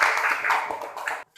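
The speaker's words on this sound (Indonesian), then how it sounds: "Tepuk tangan ke dia ya" A primary class claps for a pupil in the classroom: a short, dense burst of hand claps lasting just over a second, then cutting off abruptly.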